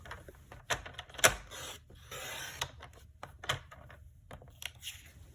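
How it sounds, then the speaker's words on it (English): Paper for a handmade card being cut on a trimmer, with a close series of short scraping slides and soft clicks and thumps, irregular and fairly quiet, no voices. "And then I'll turn it and cut at 5 1/2 inches."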